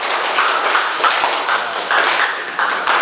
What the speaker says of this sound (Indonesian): beri tepuk tangan dulu untuk temanmu yang sudah sampai dari kelompok